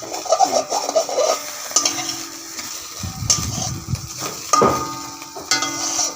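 Egg omelette frying in a pan while being stirred and turned, a sizzle broken by scraping spatula strokes and metallic clinks against the pan, close and without talk.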